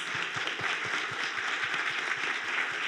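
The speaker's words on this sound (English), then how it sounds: "Can we give them a round of applause?" An audience at a women's health event applauds a panel with a continuous, dense wash of clapping that holds steady from start to finish.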